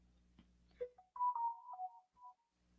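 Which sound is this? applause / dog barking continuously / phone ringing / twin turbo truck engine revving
phone ringing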